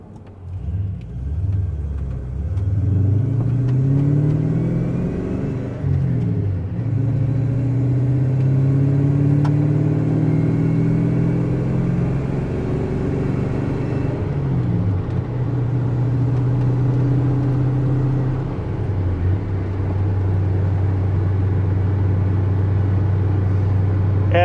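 A truck engine running with its exhaust fallen off, a steady loud low rumble with rising and falling revs as it drives, heard continuously without talk.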